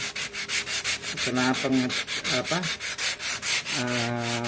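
Rhythmic back-and-forth sanding with 800-grit sandpaper on a vintage Vespa body, a fast steady rasp of sandpaper rubbing the surface, with occasional squeaky tones mixed in.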